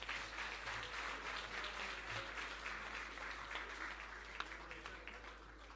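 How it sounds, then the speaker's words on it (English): Audience applause at a labour ministry awards ceremony, a steady, fairly distant patter of many hands with a low hum beneath, holding for several seconds. "Keep the applause going"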